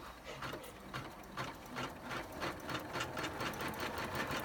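An embroidery machine stitches an in-the-hoop business card holder, giving a fast, rhythmic mechanical chatter with regular pulses, moderately close and steady for the whole stretch.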